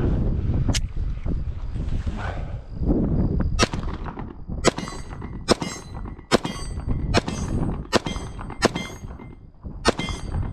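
A Sig Sauer 365X Macro pistol fires about eight sharp shots outdoors, spaced roughly a second apart, each crack loud and close with a short ringing tail over wind noise.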